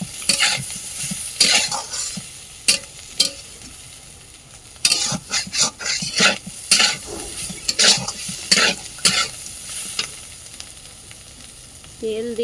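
Food fries in oil in a pot on a clay stove, a continuous close sizzle punctuated by repeated scraping and stirring strokes and metal clinks against the pot, with no voices.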